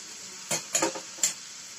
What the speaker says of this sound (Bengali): এখানে আমি পেঁয়াজ আর রসুনটা ভেজে নেবো।